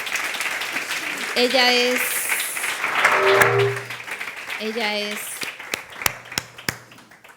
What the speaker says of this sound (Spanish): a la cual le pido un fuerte aplauso a todos vosotros.